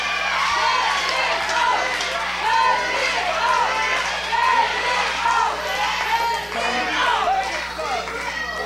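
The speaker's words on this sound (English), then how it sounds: "Crowd is calling for it here. They want to see it." A wrestling crowd at a CWF Mid-Atlantic show chants and shouts continuously, many voices overlapping in a dense, rising and falling roar as they call for the scissors.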